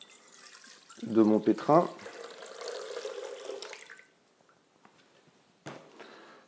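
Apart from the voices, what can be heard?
water being poured into a kneading machine bowl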